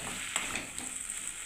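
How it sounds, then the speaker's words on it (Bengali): Spices with turmeric, salt, chopped tomato and capsicum sizzle and get stirred in a pan, a steady close frying hiss broken by a few brief scraping stir sounds. "পরিমাণ মতো হলুদ নুন সব মশলা দিয়ে আমি কষতে থাকবো মশলাটাকে"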